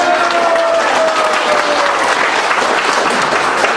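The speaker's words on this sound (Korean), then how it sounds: "우리 도태우 변호사의 훌륭한 말씀 정말 감사드리고 우리 국민 여러분 뜨거운 박수 다시 한번 부탁드리겠습니다." Dense, steady applause from a large audience at a political rally fills the clip, loud and close throughout, with a faint crowd murmur underneath.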